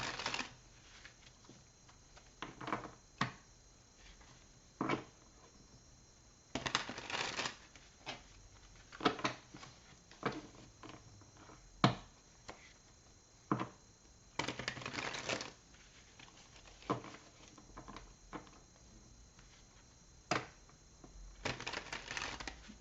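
Tarot cards being shuffled and handled, a series of faint, brief riffling and slapping bursts at irregular intervals over a low background hiss, with no voices.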